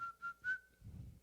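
A man whistles a few short, bright notes in quick succession, sliding into one slightly longer tone. A brief low rumble follows in a quiet room.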